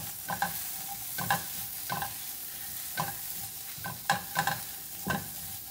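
Mushrooms with salt and paprika are stirred in a pan. Soft scraping strokes come in irregular bursts over a faint, steady sizzle, with no one talking.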